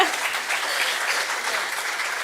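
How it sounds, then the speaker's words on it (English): Lecture-hall audience applauds after a programming demonstration: steady, dense clapping from a crowd, close and sustained throughout without a break. "Don't clap for me, clap for Alonzo."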